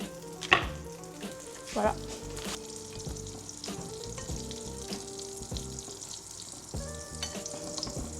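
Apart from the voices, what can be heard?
butter sizzling in a frying pan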